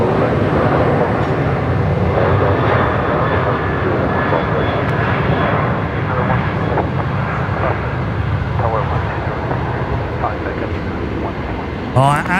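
A Rex aircraft landing at Brisbane Airport produces a steady, broad engine roar that holds throughout, with faint talk and radio chatter underneath and a brief handling noise at the end.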